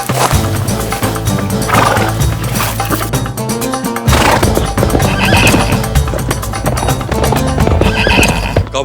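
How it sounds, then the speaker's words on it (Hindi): Arabian horses neigh and whinny loudly while hooves clip-clop in busy, overlapping bursts, with crashing hits mixed in and a brief drop in the din around the middle. "काबुल से अरबी घोड़े मंगवा लिए?"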